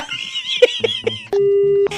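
A phone call disconnecting during a prank call: after a few brief voice fragments, a steady electronic hang-up tone holds for about half a second, clear and close, then cuts off.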